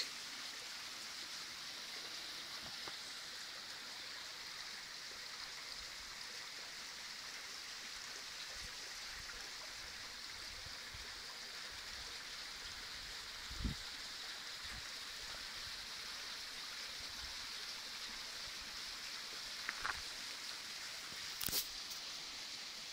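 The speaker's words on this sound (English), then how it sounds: "look at this waterfall" Steady, soft rushing of a waterfall in Yellowstone National Park, Wyoming, heard from below as a constant distant wash with a few faint clicks and taps on top.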